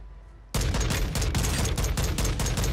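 Sudden bursts of RAAL SMG fire in Warzone 2, rapid loud automatic shots in a tight rhythm that start abruptly after a quiet moment and keep going.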